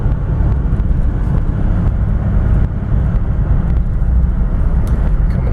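Steady V6 engine and road drone from inside a moving 1994 GMC Jimmy SLE 4x4, a continuous low rumble with no talking.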